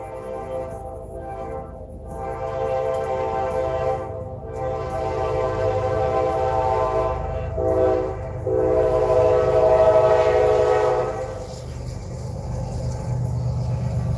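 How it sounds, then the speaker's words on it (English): A train passes close by, its loud rumbling wheels and cars rolling steadily while the horn sounds in several long, strong blasts, with no talking over it. "Oh, there is the freaking train."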